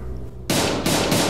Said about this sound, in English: let's go try to shoot the lock off, right?